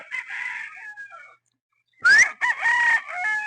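A Boston Roundhead broodstag rooster lets out a short, close crow after some softer vocal sounds and a brief pause, followed by further calling.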